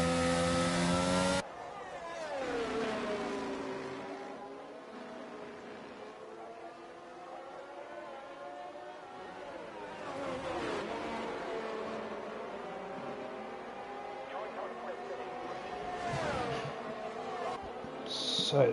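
F1 car on an out lap at Great Britain in F1 22, its buzzing high-revving engine whining up and down through gear changes, fairly close but moderately quiet, with no talk.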